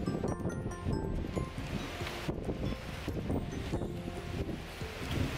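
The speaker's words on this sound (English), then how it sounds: "You guys can see the wind is crazy." Strong gusting wind blowing outdoors on an autumn hike, a steady roaring rush buffeting the microphone with rustling leaves, loud and continuous throughout with no voices.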